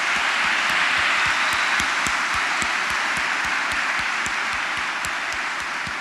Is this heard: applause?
yes